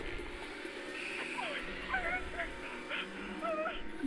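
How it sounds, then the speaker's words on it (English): A dog in the video game Escape Dead Island gives faint yips and whimpers amid a dense, noisy game soundscape, short pitched cries scattered through the clip. "Sounds kind of like a dog."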